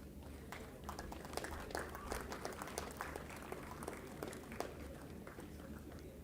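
Audience at a graduate convocation applauds steadily throughout, dense overlapping claps at moderate distance with a faint voice murmuring under the crowd noise.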